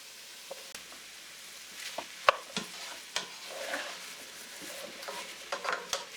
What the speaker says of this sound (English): every vegetable, you just mix it in and you saute it for like about 5 minutes